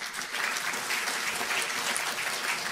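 An audience at an MSME Day government event breaks into sustained applause, a dense, steady wash of many hands clapping that carries on throughout.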